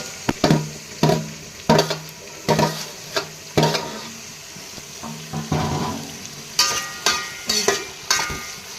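Onions, green chillies and tomatoes cooking in a pan give bursts of sizzle and scraping stirs, recurring roughly every half second to second, close and fairly loud, with no talk.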